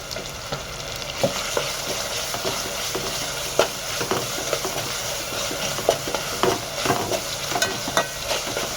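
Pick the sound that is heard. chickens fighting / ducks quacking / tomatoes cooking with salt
tomatoes cooking with salt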